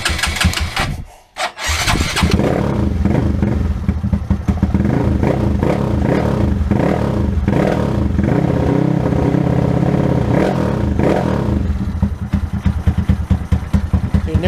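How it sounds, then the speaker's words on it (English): A cold motorcycle fitted with an Aracer Mini Plus ECU starts after a brief crank, then idles loudly and close with a steady, slightly lumpy throbbing that continues unbroken to the end. "So let's go ahead and start the bike."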